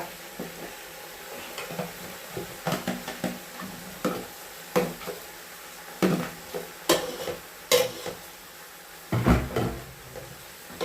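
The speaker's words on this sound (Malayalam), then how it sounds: "ചക്ക ഇട്ട് നല്ലോണം ഇളക്കി കൊടുക്കും." Cooked jackfruit being stirred in a pot, giving irregular scraping and clinking knocks of a spoon against the vessel, moderately close, with no voices.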